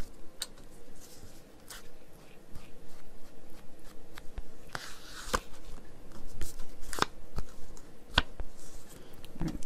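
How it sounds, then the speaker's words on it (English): Scissors snipping the corners off a paper tag, a handful of crisp separate cuts and rustles scattered through a quiet room, close by with no talking. "Oh, we gotta cut the corners"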